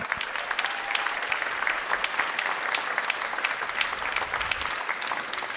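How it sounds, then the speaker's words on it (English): Steady, dense applause from an audience at a library ribbon-cutting ceremony honours a councilmember, lasting evenly at moderate distance with no voice over it. "Give him a round of applause"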